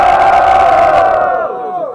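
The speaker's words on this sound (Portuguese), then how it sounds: "Diferentemente, muito barulho quem gostou das rimas do Breno." A crowd at the final of a student rap battle cheers and shouts loudly for a rapper, a dense roar of many voices that holds strong and then tapers slightly at the end.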